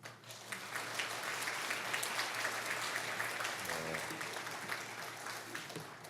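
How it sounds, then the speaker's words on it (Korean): A congregation at a Sunday morning church service applauds steadily for several seconds, dense clapping filling the room at an even, fairly loud level. "큰 박수로 환영해 주시기 바랍니다."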